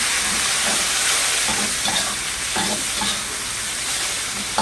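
Garlic and seafood stir-frying in a pan for a sweet and sour seafood dish: a steady, close sizzle with intermittent scraping stirs, no voices.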